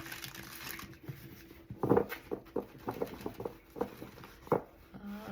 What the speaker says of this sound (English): I'm going to give it one more shuffle for you.